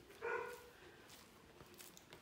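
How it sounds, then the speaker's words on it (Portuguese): A neighbor's large dog across the street gives a single faint, distant bark, followed by a quiet background with a few soft knocks. "não fechou o cachorro tá latindo"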